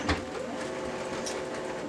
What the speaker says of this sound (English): your printer will start initializing